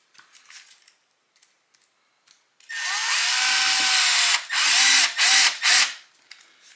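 Power driver running screws back into the upper axle of an Axial SCX6 RC crawler: a few faint clicks, then a loud close whir with short stops and restarts as each screw seats.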